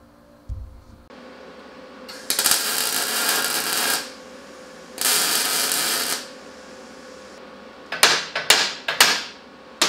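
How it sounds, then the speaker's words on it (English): Metal clanks and rattles from fishing a dropped part out of a welded steel mini bike frame, with two long scraping bursts followed by a quick series of sharp knocks near the end, close and fairly loud. "I just dropped it down inside the frame. So I get to fish that out now."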